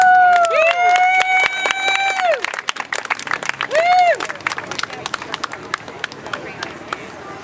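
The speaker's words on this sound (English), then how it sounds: "Please give a nice warm round of applause for Gloria." Rally crowd at a women's suffrage anniversary event breaks into applause with whooping cheers, loud and close, bright shouts rising over the clapping before it thins into scattered claps and chatter.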